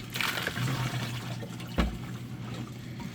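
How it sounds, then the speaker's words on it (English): Running water rinses grit off tumbled desert jasper and prairie agate stones, a close splashing and trickling flow with a sharp splash near the middle. "trying to rinse off the little lip right there to get all the grit out of that lip that I can"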